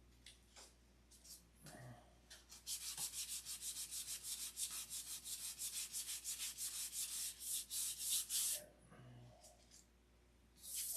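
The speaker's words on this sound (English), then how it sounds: "Sand it out." Rhythmic strokes of hand sanding over a primed surface during finish sanding, a steady run of short scratchy rubs for several seconds, with quieter gaps and soft isolated scrapes before and after.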